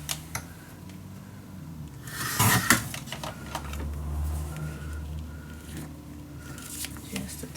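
A small piece being snipped off paper for a steampunk dos-a-dos mini album, a brief close cluster of cutting and handling noise in the middle, fairly quiet, with no talking.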